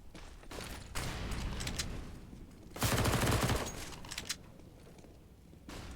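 Gunfire during a competitive Counter-Strike match on Inferno or Overpass, dense rattling bursts of automatic fire with a louder volley midway, mixed with game noise and no talk.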